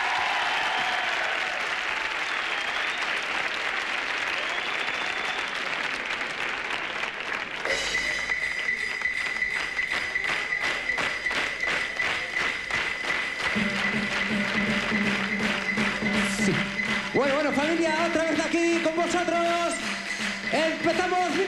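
Crowd applauds and cheers at the start of a DJ session, a dense, sustained wash of clapping that gives way to a pounding electronic beat with a steady pulse.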